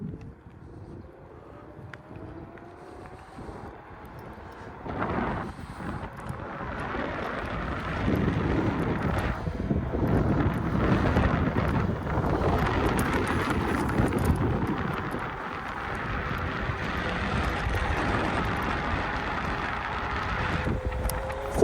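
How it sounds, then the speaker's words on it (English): A KuKirin G2 electric scooter accelerates in race mode on a road ride, its faint motor hum buried under steady rushing wind noise that builds as speed rises, with no talk over it. "now let's try some acceleration."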